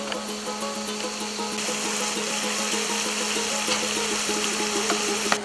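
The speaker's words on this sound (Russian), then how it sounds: "Сейчас заливаем воду" Water pours steadily into a pot of Tajik plov cooked with linseed oil, the zirvak base nearly done; a continuous close rushing and splashing with no talk.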